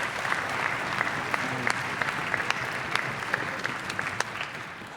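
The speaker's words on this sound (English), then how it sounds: "So let's clap for her." A church audience claps steadily through a youth choir concert, honouring a departing senior, with sharp individual claps rising out of a dense, moderately distant wash of applause.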